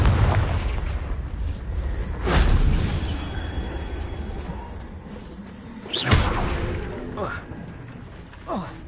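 The Confringo blasting spell in Hogwarts Legacy sets off a couple of heavy booming bursts with whooshing tails, close and loud over a rumbling game background.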